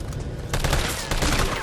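Bursts of video game gunfire from Resident Evil 3, loud and dense, shots coming in rapid clusters with a short lull before a heavier sustained volley.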